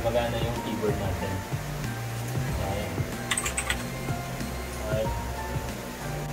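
Rapid clicking keystrokes on a Bluetooth keyboard paired with a Samsung phone running DeX, close and fairly loud, with irregular bursts of typing and a faint room hum underneath.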